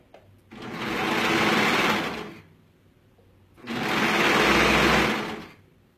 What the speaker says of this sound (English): I'm going to come over here and sew this other side seam here.